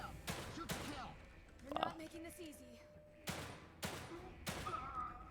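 A few sharp gunshots ring out in the horror game The Evil Within 2, spaced apart with short echoing tails, while a single voice briefly exclaims over them.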